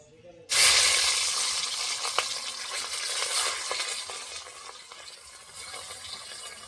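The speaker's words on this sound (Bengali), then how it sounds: "চলো এবার রুই মাছটা ভেজে নেই।" Pieces of rohu fish drop into hot oil in a pan and burst into a loud, sudden sizzle that keeps crackling and hissing close by, with occasional pops and spatters.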